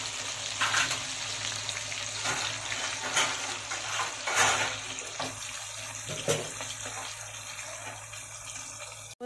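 Pieces of shol or singi fish frying in oil in a pan give off a dense, steady crackling sizzle, close and fairly loud, with sharper bursts of spitting popping through now and then.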